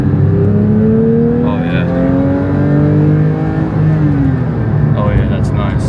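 A Porsche 992 GT3 with sport exhaust accelerates hard, its rear-mounted engine rising in pitch through the gears with a loud, rasping howl, a brief shift gap midway, heard from inside the car while a voice briefly speaks.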